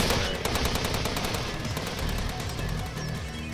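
Dense automatic gunfire from the Steins;Gate 0 visual novel rattles continuously, rapid bursts overlapping into a loud, unbroken fusillade across the whole stretch.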